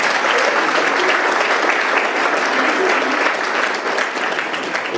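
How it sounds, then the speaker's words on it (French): Guests applaud a couple at a golden wedding anniversary ceremony, a dense, steady wash of clapping from many hands filling the whole stretch without a break. "Et on peut les applaudir."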